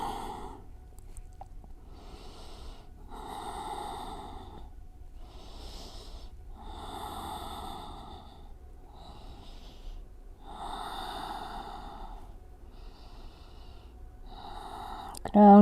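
Slow, deep breaths repeat during a yoga practice, each one a soft, airy exhale with gentle sighing pauses between them, quiet and close.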